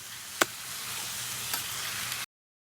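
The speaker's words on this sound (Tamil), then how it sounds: "சிக்கனை நம்ம வந்து ஆட் பண்ணுறோம். இதை வந்து நம்ம நல்லா ஒரு மிக்ஸ் கொடுத்துக்கலாம்." Chicken pieces sizzle steadily in a frying pan for a village-style Tamil chicken curry, with a sharp stirring clink near the start and a softer scrape later before the sound cuts off.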